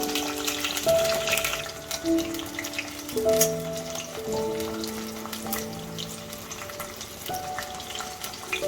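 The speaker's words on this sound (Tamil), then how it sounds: "நான் ஒரு ஆறு கத்திரிக்காய் எடுத்துருக்கேன் அதை நல்லா பொறிச்சு எடுத்துக்கலாம்" Six eggplants fry in oil for a Chettinad ennai kathirikai kulambu, giving a steady close sizzle and crackle throughout with no talk.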